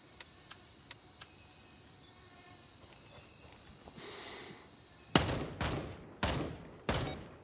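Gunfire in the Gray Zone Warfare military shooter game: a few faint distant shots at first, then a burst of noise and four loud, close, sharp shots in a spaced rhythm.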